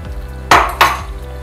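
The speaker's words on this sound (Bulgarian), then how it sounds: "И ще добавя яйцата." Three beaten eggs poured into a hot pan of sorrel on a stove turned down to level five of nine, giving two quick, loud sizzling bursts that fade to a low simmer.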